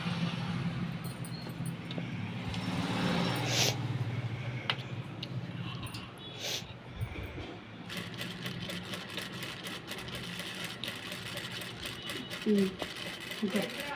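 A sewing machine stitches a plain blouse, its motor running in steady bursts throughout, close and fairly loud, with a person talking over it.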